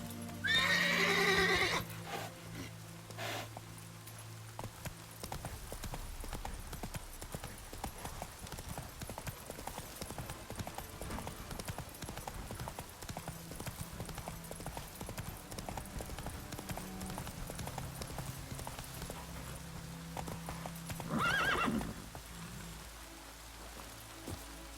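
Roach, the horse in The Witcher 3 video game, galloping in steady rapid hoofbeats over rain, with a whinny near the start and another near the end, loud and close.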